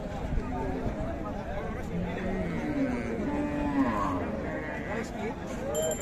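Cows at a busy rural cattle market in Ranigonj, Dinajpur, with a low moo rising over steady crowd chatter and bargaining voices close by.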